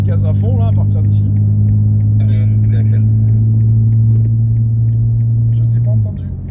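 A race car engine on the Mireval track holds a steady, loud droning note for about six seconds before dropping away, with brief voice fragments at the start.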